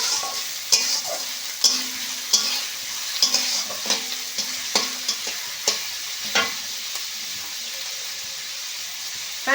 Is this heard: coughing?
no